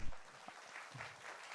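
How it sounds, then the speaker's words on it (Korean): A quiet audience applauds award winners at the 2015 FameLab Korea science communication final, with brief faint clapping heard at a distance. "축하의 박수 부탁드리겠습니다"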